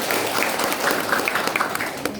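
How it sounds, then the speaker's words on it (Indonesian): Steady, close audience applause from a crowd at a religious talk continues without a break, with a faint voice underneath. "Tepuk tangan buat Mahakarya."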